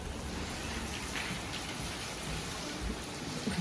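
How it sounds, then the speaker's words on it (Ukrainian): Heavy rain pours down outside a window in a steady, dense hiss of drops, with no talking over it. "Дивись, яка злива."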